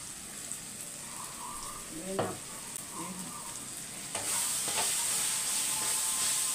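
Chili powder masala fries and sizzles in a pan as a spoon stirs it, a steady close hiss with occasional scrapes that grows louder and brighter partway through.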